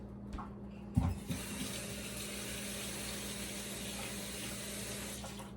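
Water running from a kitchen tap into the sink, a steady low rush with a brief clunk near the start, fairly quiet and continuous, no voices.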